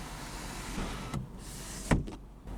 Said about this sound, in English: the controls for your power sunroof. It is one-touch automatic.